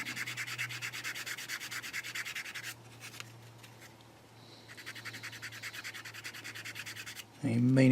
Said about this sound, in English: just come at it with a sanding stick afterwards